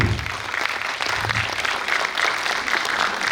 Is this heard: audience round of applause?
yes